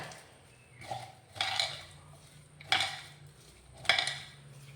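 Thinly sliced onions rubbed and squeezed with salt by hand in a bowl, making four separate bursts of soft, moist crunching and rustling with short quiet gaps between them.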